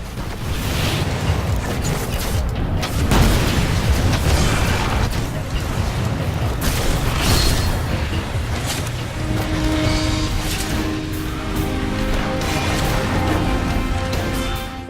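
Rocket blasts go off in Destiny's Crota's End raid, dense rumbling bursts and booms layered over continuous game noise and music, loud and close throughout with no clear gaps.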